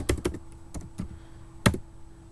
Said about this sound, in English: I'm typing that in right now.